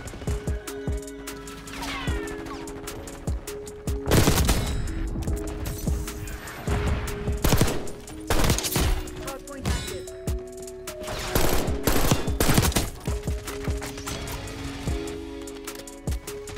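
SWAT 556 burst rifle in Black Ops 6 fires repeated quick bursts of close, sharp shots with gaps between them, mixed with other game effects and distant gunfire.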